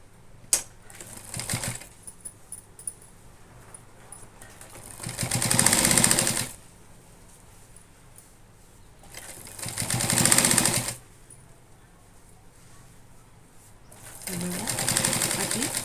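A sewing machine stitches a cotton cloth bag in three separate runs of steady whirring and clatter, each a second or two long, with someone talking quietly in the pauses between.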